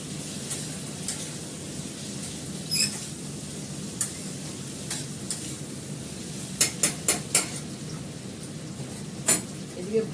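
Potatoes fry in a pan with a steady low sizzle, while a utensil scrapes and clinks against the pan in sporadic sharp taps as they are stirred; a voice speaks quietly at times.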